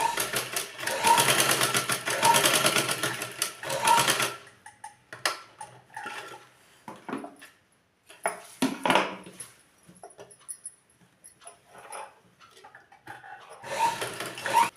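Sewing machine stitches down both sides of a ladies' trouser leg, a loud steady whirring run for about four seconds, then scattered handling and rubbing noises before the machine starts again near the end.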